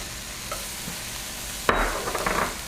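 Garlic tossed into a hot pan of chicken and string beans, a sudden burst of sizzling after a quiet stretch of low background frying, continuing with scraping stir sounds.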